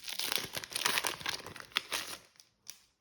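A Pokémon card booster pack wrapper is torn open, close crinkling and ripping foil in bursts that stop, then one last short crinkle.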